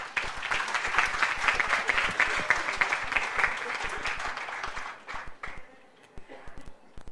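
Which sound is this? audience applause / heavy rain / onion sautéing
audience applause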